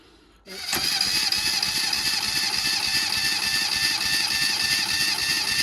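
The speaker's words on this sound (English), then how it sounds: "we're going to do a quick compression test and just see what we've got on all cylinders" A low-compression Mini 908 engine cranks steadily on the starter during a compression test, a loud continuous mechanical whir with rapid rhythmic pulses that starts abruptly and runs on without stopping.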